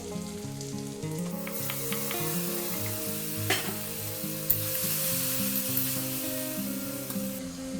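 Ginger, garlic and green chilli paste frying in hot oil in a pan, a loud continuous sizzle with occasional stirring scrapes and sharp pops.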